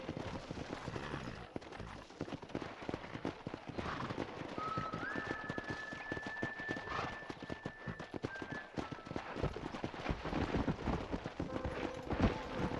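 Rapid hoofbeats of galloping horses in the video game Red Dead Redemption pound steadily through the whole stretch, with a faint tonal whistle drifting in the middle.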